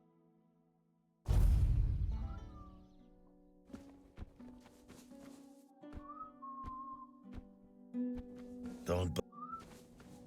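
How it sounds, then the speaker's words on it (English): A game character in Tainted Grail: The Fall of Avalon whistles a few short melodic phrases, spread across the clip, under louder footsteps, clatter and background ambience, with a brief spoken word. "Just whistling."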